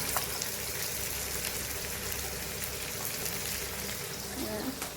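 Spices sizzle in hot oil in a kerahi wok for a fish curry, a steady, dense crackling hiss that holds level throughout without breaks.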